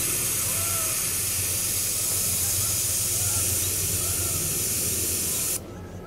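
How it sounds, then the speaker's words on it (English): An Audew portable double-cylinder air compressor inflates a tire, producing a loud, steady rushing hiss with a low motor hum beneath, running continuously until it cuts off near the end. "we'll hook up the air compressor."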